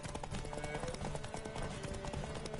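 Horse hooves clip-clopping in the video game Witcher 3, a steady run of hoofbeats under game music and ambient noise, with a voice speaking over it.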